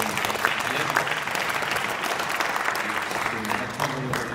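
A banquet audience applauds steadily for several seconds, a dense and even clapping from a room full of people, with faint voices mixed in.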